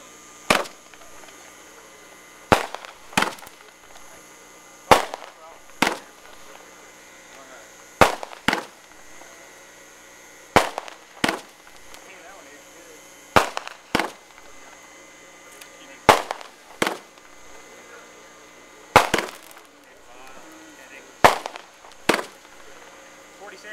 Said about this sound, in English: How about them fireworks? Pretty cool, huh?